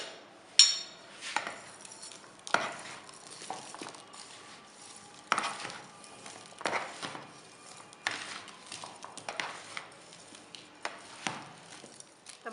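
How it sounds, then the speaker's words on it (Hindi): Fruit chaat ingredients are mixed with lemon juice in a bowl, a spoon giving soft scrapes, wet squishes and occasional sharp clinks against the bowl in an irregular, close-up rhythm. "अब तमाम चीज़ों को अच्छी तरह मिक्स कर लेंगे।"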